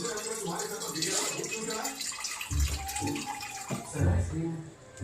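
Water from a household water filter pours in a continuous, fairly loud rushing stream into a cooking pot, filling it steadily throughout.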